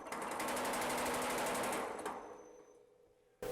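A mechanical power hammer running slowly under VFD speed control: loud, fast repetitive pounding that holds steady, then winds down and fades, ending with a sudden loud burst.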